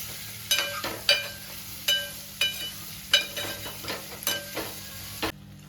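Raw prawns frying with turmeric in a pan for a prawn egg curry, heard as a steady soft sizzle broken by repeated sharp scraping stirs at roughly one-second intervals, close and alone with no voices.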